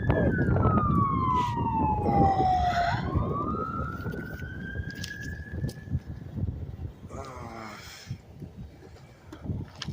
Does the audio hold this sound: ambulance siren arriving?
yes